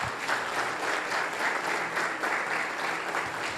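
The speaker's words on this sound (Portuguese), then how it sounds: "Aplaude Jesus." A church congregation at an Assembly of God service claps continuously and evenly, a dense wash of hands with no break and no voices rising above it.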